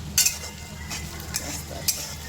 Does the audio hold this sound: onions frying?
yes